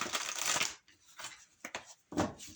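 Tarot or oracle cards shuffled for a spiritual reading, giving bursts of crisp riffling and brushing with short gaps between them, close and fairly quiet, with no talking.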